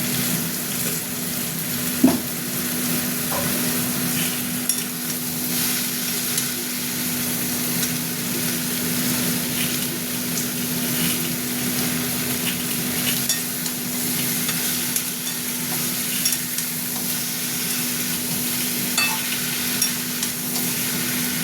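Continuous sizzling of pumpkin, potato, drumstick and pointed gourd frying in a pan with spices and turmeric, with occasional scrapes and knocks from stirring and a faint steady hum underneath.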